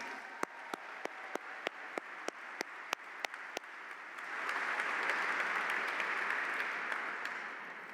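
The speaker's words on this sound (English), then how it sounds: "How about a round of applause for our mayor, London Breed?" An audience at a swearing-in ceremony in San Francisco City Hall applauds the mayor. A few sharp, evenly spaced claps open it, then broad applause from a crowd swells and holds steady to the end.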